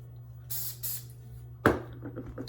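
Two short hissing sprays from a hairspray can, close by, followed by a sharp clack and some soft rustling.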